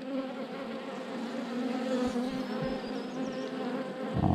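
Honey bees buzz around beehive frames, a dense, steady droning hum from many insects close by that swells slightly toward the end, with no talking.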